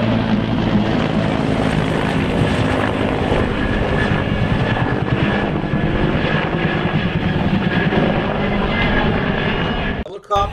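A helicopter's loud, steady rotor and engine roar fills the air continuously overhead a high school football field, then cuts off abruptly at the end.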